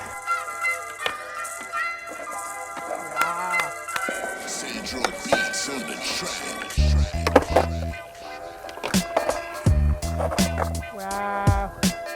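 A skateboard performing a fakie tray flip out of a manual on a windy outdoor spot gives rolling wheel noise and a few hard board thwacks over steady background music.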